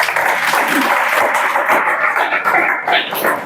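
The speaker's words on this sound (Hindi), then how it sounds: "सभी व्यक्ति ताली बजाओ।" Students in a police recruitment coaching class clap together, a loud, close, continuous burst of many hands with slight shuffling, and no talk over it.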